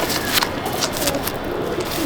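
Pigeons in a loft of Madrasi show birds coo softly among rustling and faint background noise, a steady low murmur of calls filling the enclosed space.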